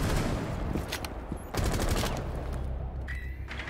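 Sustained machine-gun fire in Rainbow Six Siege, a loud, dense rattling burst that runs almost continuously with only a brief gap midway.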